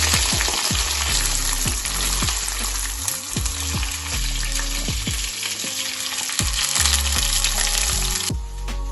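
Onion, garlic, ginger, green chili and curry leaves frying in hot oil with mustard seeds for a fish curry, a steady loud sizzle broken by repeated scraping stirs of a spoon against the pan, with no talking.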